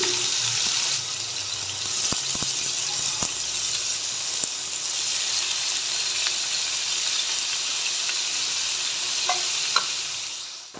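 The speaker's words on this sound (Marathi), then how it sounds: "त्याच्यात हे पनीरचे तुकडे जे आहेत ना ते थोडेसे लालसल क कलर येईपर्यंत परतून घ्यायचे" Paneer cubes frying in oil in a wok, a steady close sizzle throughout with occasional clinks and scrapes of a spatula stirring the pieces.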